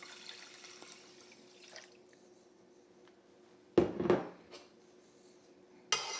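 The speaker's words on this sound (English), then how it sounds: "Now we're going to add the 2 cups of water that we're going to cook it with." Two cups of water are poured into a pot of rice on a stove burner, heard as a short splashing burst and then a second brief splash. A quiet steady hum fills the gaps between them.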